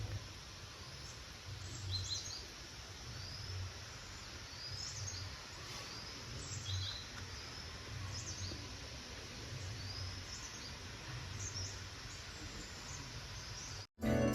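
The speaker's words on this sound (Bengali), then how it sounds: "সকালবেলায় পাখিদের ডাক শুনতে" At a hotel in Lamahatta, near Darjeeling, birds call in the morning, making faint, scattered chirps and short whistles over a quiet outdoor hush. Low wind murmurs in the background.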